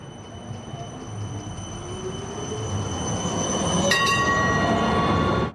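An Amsterdam tram passing on its rails, a rumbling roll that swells steadily louder as it nears, with wheel squeal and a sharp metallic clank near the end.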